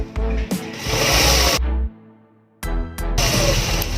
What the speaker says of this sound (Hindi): साइड में डबल सिलाई ज़रूर चलाना है